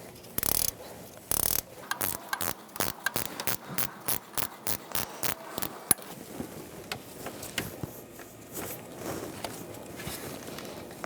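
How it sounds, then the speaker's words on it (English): A ratchet wrench with a 12 mm socket loosens a nut on the starter of a 2002-2006 Honda CR-V: loud, close, sharp clicks in a steady rhythm, then quieter handling and shuffling noises. "we're going to use a 12 millimeter ratchet wrench or just a regular wrench"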